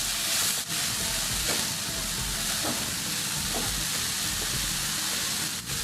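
Chopped carrots and vegetables for veg momos sizzle and fry in a hot pan while being stirred, giving a steady close crackle with soft scraping stirs at intervals.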